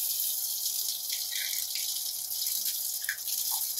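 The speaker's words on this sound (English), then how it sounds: "just wash it under some water." Tap water runs steadily into a sink as strawberries are rinsed, a close, even hiss with small splashes and drips against the fruit, with no talking.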